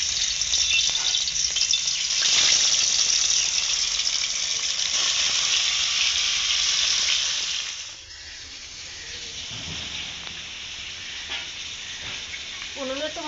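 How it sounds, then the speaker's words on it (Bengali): Rohu fish pieces rubbed with salt and turmeric fry in hot oil, a loud, bright sizzle that hisses steadily for several seconds, then drops to a quieter, crackling simmer with occasional stirring clinks. "তেল গরম হয়ে গেছে, এবার একে একে মাছগুলো দিয়ে দেবো"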